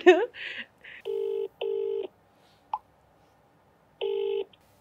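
A telephone keypad dials a call to a son: a string of clean electronic touch-tone beeps, several held for about half a second with short gaps, following a brief burst of voice at the start.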